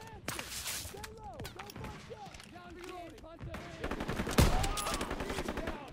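Gunfire in the World War II shooter game Call of Duty WWII, scattered shots and bursts under excited talking, with a louder, heavier volley near the end.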